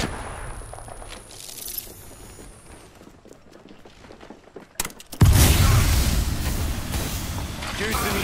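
Gunfire in the Apex Legends video game, with a sharp shot near the five-second mark followed by a loud, sustained blast of noise, set among quieter mechanical clanks.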